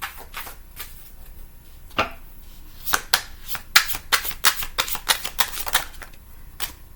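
Tarot cards being shuffled by hand, a run of crisp riffling slaps and flicks in quick irregular bursts, close and fairly quiet, with no talking.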